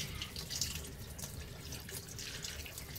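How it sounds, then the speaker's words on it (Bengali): Tap water runs steadily into a sink while a cut jumbo crab is rinsed clean, a soft continuous splashing with small spatters, close and fairly quiet, no talking. "এবারে ওটা কেটে নেওয়ার পর আমরা এবার ভালো করে জল দিয়ে ধুয়ে নিচ্ছি পরিষ্কার করে"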